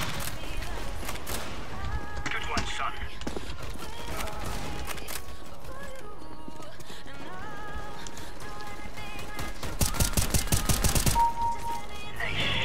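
M4A1-S rifle fire in the video game CS:GO, heard as rapid bursts of shots late in a busy, continuous game soundscape with other effects throughout.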